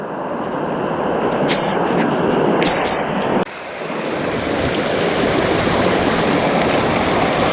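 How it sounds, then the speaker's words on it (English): Rushing water as a hiker wades knee-deep across a fast-flowing river on the Cape Wrath Trail, a loud, continuous, close roar of churning water with wind noise and a brief dip partway through. "So I had to wade through that river up to my knees in pretty fast flowing water."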